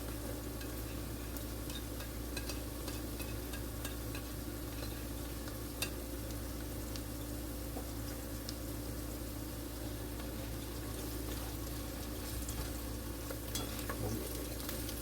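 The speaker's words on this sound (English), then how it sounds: "We're gonna go ahead and get ready to add the garlic." Garlic frying and being stirred in a pan with cooking lima beans, a steady close sizzle with scraping stir strokes throughout, no talk.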